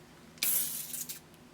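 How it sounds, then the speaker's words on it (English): A short burst of Morphe Continuous Setting Mist sprayed over a face, a close, soft hissing spritz lasting under a second before tapering off. "I'm taking the Morphe Continuous Setting Mist, and I will spray that over my face"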